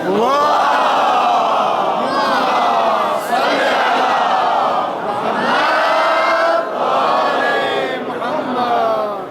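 A large crowd loudly recites salawat in unison at a celebration of Imam Hussain's birth, voices rising and falling together in several long collective phrases, with brief dips between them.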